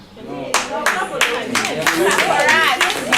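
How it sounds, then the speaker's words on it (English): A small audience at a health education session claps in a few separate bursts, distinct close hand claps rising into a brief scattered round, with voices talking over and between them. "clap for them"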